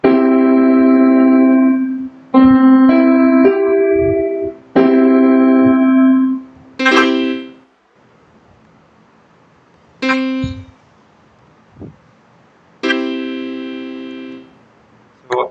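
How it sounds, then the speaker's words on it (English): Major triad chords played one after another on a keyboard-like instrument, each sustained note stack ringing clearly then cut off, with short gaps and a few brief separate notes between them. "So a major triad sounds like that."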